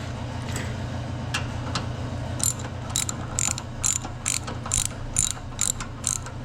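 Ratcheting clicks from a hand tool tightening a part on a lawnmower foot throttle, a steady run of sharp mechanical ticks, louder and spaced in the second half over a low background hum.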